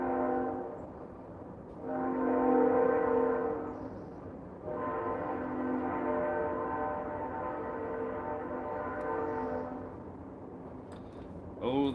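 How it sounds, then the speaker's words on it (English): A passing train sounds its horn in two long, steady blasts, the second held for several seconds, loud but somewhat distant over a low rail rumble, with the horn cutting off near the end. "we have a train coming"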